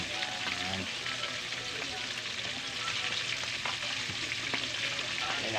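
Fish fries in a pan of hot oil, a steady loud sizzle and crackle with occasional sharp pops and stirring sounds throughout, no voices.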